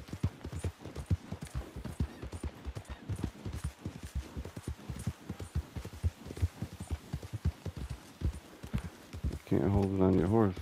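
Rapid rhythmic hoofbeats of a galloping horse in Red Dead Redemption 2, close and steady throughout, ending in a loud whinny.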